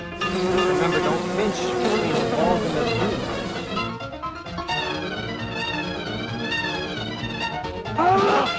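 A dense, wavering buzz of many bees fills the clip, loud and close, with voices talking over it.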